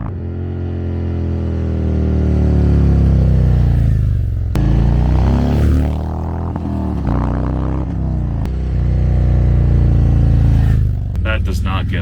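A riding motorcycle with an M8 engine rumbles loud and close, rising and falling as it revs, with a few sharp changes and a steady deep throb throughout.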